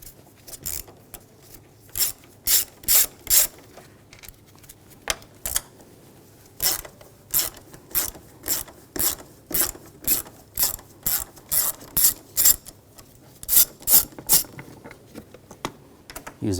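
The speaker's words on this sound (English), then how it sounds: "there's two bolts over here, use a 10mm socket," A ratchet turning a 10mm socket to remove bolts on a 2007-2013 BMW X5 3.0L inline-six, heard as bursts of rapid, crisp clicking that stop and start, close up with no speech.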